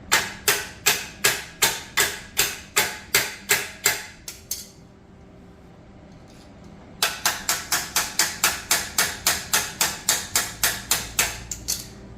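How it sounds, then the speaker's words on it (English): A hammer strikes a freshly welded metal mini bike frame again and again in quick, evenly spaced blows, pauses for a few seconds, then resumes a steady run of sharp, ringing hits. "use our hammer here?"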